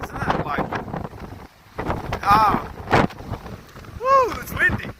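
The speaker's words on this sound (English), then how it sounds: "woo, it's windy." Wind buffets the microphone in gusty, rumbling bursts while people talk and exclaim nearby on a bush walk at Acacia Flat, Blackheath.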